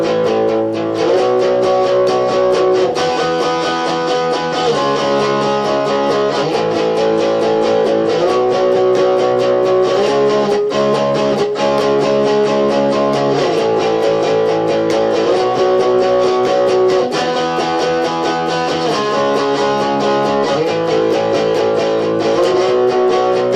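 A heavily distorted electric guitar plays the chorus of a song with steady, dense power-chord strumming that shifts through chord changes. It is loud and continuous, with no talking.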